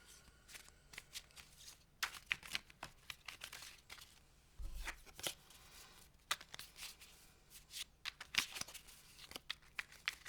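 A deck of trading cards for a Red/White Boros Human ramp game is shuffled close up in quiet bursts of riffling, fluttering and soft snapping, with brief pauses between shuffles.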